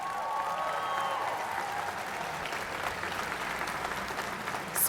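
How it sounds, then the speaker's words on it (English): An outdoor Fourth of July crowd at the National Archives claps steadily for a few seconds, a dense wash of applause without voices. "Y'all give your Air Force a hand clap."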